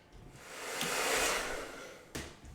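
A hair dryer blows on a wet watercolour painting, a steady close whoosh of air that rises and shifts as it moves across the paper, with a brief bump near the end.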